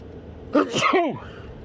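A single sharp sneeze bursts out close by, a quick intake followed by an explosive, breathy release, then quiet.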